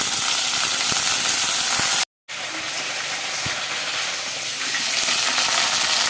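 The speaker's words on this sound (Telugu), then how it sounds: "ఇప్పుడు మనం కట్ చేసి పెట్టుకున్న బెండకాయ ముక్కలు కూడా వేసేసుకుందామండి చక్కగా" Okra pieces and onions fry together in a pan with a steady, dense sizzle. The sizzle is briefly cut off by a short silent gap, then continues close and loud with no talking.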